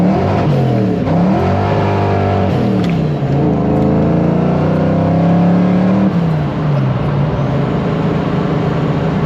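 A car engine fitted with a B303 cam revs hard and loud from start to finish, its pitch climbing and falling through several rev sweeps with a lumpy, throaty tone.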